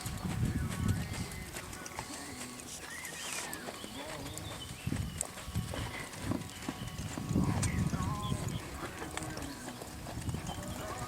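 A horse walks with slow, uneven clip-clop hoofbeats near a wall during a riding lesson outdoors, the thuds moderately close, with a riding instructor talking over them and faint birds in the background.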